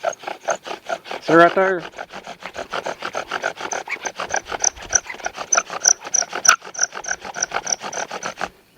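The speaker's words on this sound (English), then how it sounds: "If you are slipping on the bow drill," A wooden bow drill spindle rubs on a fire board, making steady rhythmic rasping strokes throughout, with a brief squeak early on and someone speaking briefly over it.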